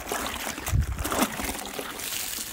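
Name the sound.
rinsing a car wash mitt with water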